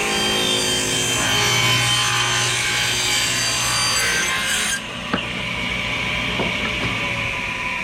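Table saw fitted with an MJ splitter ripping through wood, a steady loud rasping cut that ends abruptly as the board clears, followed by the blade spinning down with a few light knocks, no talk.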